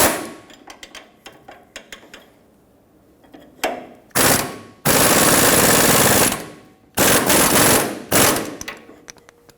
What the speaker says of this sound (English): Put on this mounting nut. Same thing, hold it and snug it up.